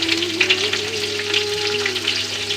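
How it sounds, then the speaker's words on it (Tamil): Onions frying in a pan for chicken biryani after spices and kasuri methi went into the oil: a bright, crackling sizzle holds steady throughout over a faint low hum. "வெங்காயத்தை நல்லா கோல்டன் ப்ரௌனாக வதக்கிக்குங்க"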